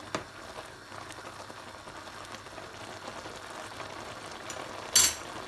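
Ground tomatoes mixed into about two spoons of hot oil in a frying pan for a urad lentil curry: a faint, steady sizzle with light stirring scrapes and one sharper clatter near the end.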